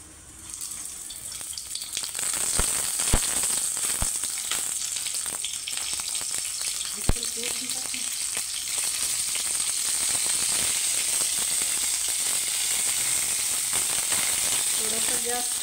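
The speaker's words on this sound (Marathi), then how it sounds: "आता आपण ही वांगी टाकून घेऊया।" Eggplants drop into hot oil in a pan for stuffed brinjal curry and sizzle steadily, a loud, continuous frying hiss close by with a few clinks of a utensil.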